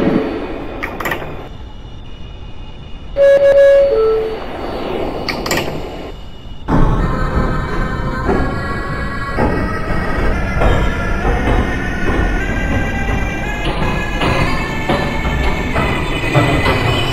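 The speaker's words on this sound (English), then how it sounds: "This is a Manhattan-bound 6 train. Stand clear of the closing doors" A New York City subway 6 train sits at a station as doors chime and slide, then the train rumbles and whines into motion with a steady rising hum, loud and close, with no voices heard.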